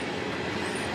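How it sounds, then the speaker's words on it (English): A train passes close by as a loud, steady rumbling roar that fills the whole moment, with a faint high wheel squeal, and no one talking. "Sorry about the train"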